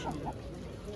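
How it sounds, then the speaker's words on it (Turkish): A hen gives a couple of quick, soft clucks close by, with faint background noise. "Ana tavuk varmış."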